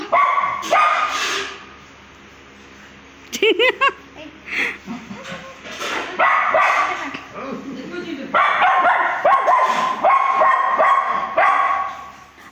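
A teased dog barks and yips in repeated loud bursts at close range, mixed with people talking and laughing throughout.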